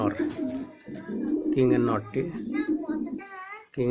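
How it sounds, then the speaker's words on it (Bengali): A male King pigeon coos close by in repeated throaty rolling calls, interleaved with a person talking nearby. "দেখেন আমার কিংয়ের নট ডাকতেছে কীভাবে"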